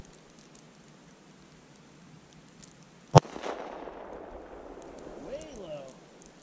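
A single gunshot fired outdoors beside a creek: one sharp, loud crack midway through a quiet stretch, followed by a rolling echo that decays over several seconds.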